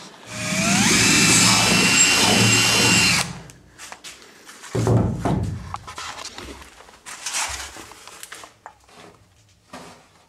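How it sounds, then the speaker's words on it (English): A power drill whines loudly and steadily for about three seconds, drilling a hole in a sailing canoe hull, then stops, followed by scattered knocks and handling clatter. "I'm going to cut or drill the index hole for the daggerboard casing"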